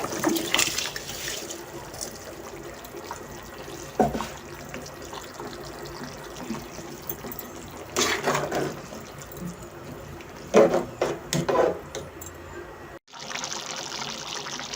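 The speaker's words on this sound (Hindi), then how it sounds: "पानी में हमारे बॉयल आ चुका है। अब हम इसमें चावल ऐड कर देंगे।" Pulao rice (aloo matar pulao) being added to a pot of boiling water, giving a steady bubbling, watery simmer with a few louder splashy bursts and stirring clatter, close by and without talk.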